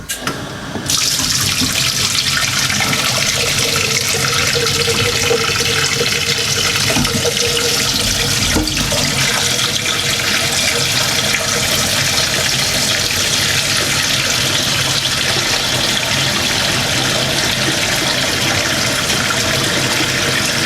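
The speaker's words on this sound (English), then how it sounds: "we're going to run cold water through" Cold water runs through a DIY inline water changer, a loud continuous rushing gush like a fully open tap, steady and close for the whole stretch.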